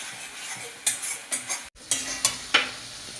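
Spice paste for a cashew mutton curry sizzling in a pan while a spoon scrapes and stirs it in steady strokes, with repeated clinks against the metal over a continuous frying hiss.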